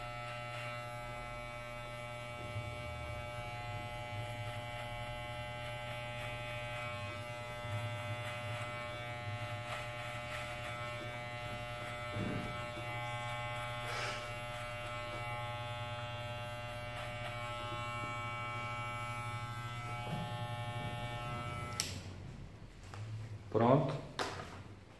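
Electric hair clippers buzz steadily and close up while trimming hair around the ear for a traditional side fade with a pompadour, a constant motor hum running unbroken, then brief handling knocks near the end.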